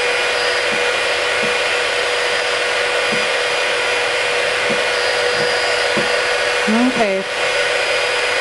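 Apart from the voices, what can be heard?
heat gun blowing on glitter HTV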